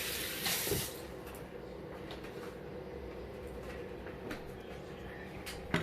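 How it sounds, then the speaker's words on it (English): Tap water runs steadily into a kitchen sink for handwashing before making green papaya salad, a close, continuous hiss with a slightly louder splash at the start and no speech. "Wash your hands."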